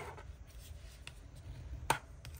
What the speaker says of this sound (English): We're just gonna score right in the middle just so that I have an even fold.